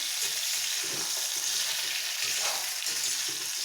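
Ridge gourd with cumin and asafoetida sizzles in a pan as it is stirred and mixed, with a constant close frying hiss and soft, repeated scraping strokes.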